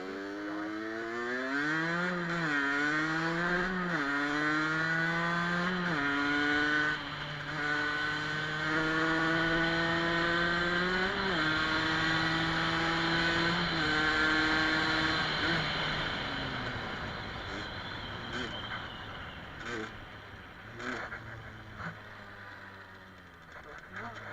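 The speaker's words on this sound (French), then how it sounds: "elle a un petit mou au démarrage parce qu'il a pas fait le réglage" A Gilera RCR motorcycle engine, a little sluggish off the start because it has not been tuned, runs close by, repeatedly revving up in rising whines and dropping back to a steady buzzing idle.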